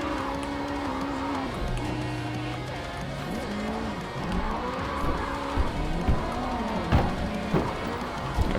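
A racing video game car revs and drones continuously, engine pitch rising and falling with occasional tire squeal, steady and fairly loud throughout.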